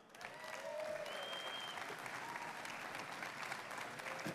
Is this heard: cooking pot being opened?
no